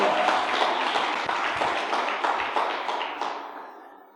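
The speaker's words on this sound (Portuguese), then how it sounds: "aplauda!" A church congregation applauds during a sermon, with loud, rapid clapping that begins at full strength and gradually fades away over a few seconds.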